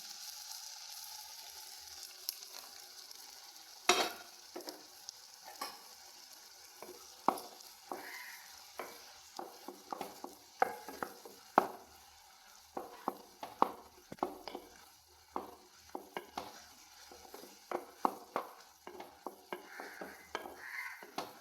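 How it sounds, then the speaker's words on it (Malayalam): Soft sizzling in a pan as melted jaggery syrup is poured in, with frequent clinks and scrapes of a utensil stirring, quiet and close, no talking. "നമ്മൾ ഉരുക്കി വെച്ച ശർക്കര വെള്ളം ഒഴിച്ചു കൊടുക്കാം"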